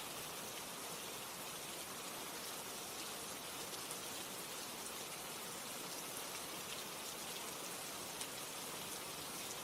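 Steady rainfall patters evenly on surfaces, a dense, unbroken hiss of drops that stays soft and continuous throughout without any voices.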